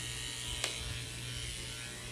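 Electric clippers buzz in a steady, fairly quiet drone while trimming around a Goldendoodle's face, with one brief click partway through.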